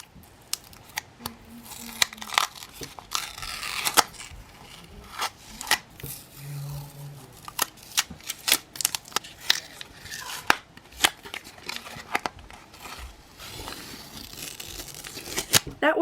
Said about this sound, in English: now it's time for the satisfying tape peel